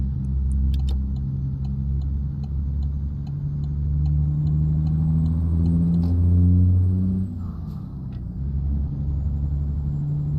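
The FBL cab-over mod truck engine in American Truck Simulator drones low and loud, pitch climbing through the gears before a shift dip and a hiss, with light ticking clicks above and no speech.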